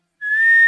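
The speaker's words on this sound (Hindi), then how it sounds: "किसने बजाई सीटी?" A single high, pure whistle rings out after a moment of silence, holding steady for about half a second before cutting off sharply.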